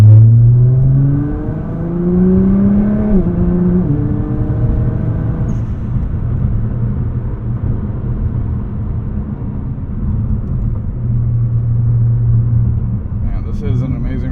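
A 2012 Nissan GT-R R35 engine pulls up through its rev range from inside the cabin, pitch rising and shifting over the first few seconds, then settling into a steady loud cruising drone with road rumble.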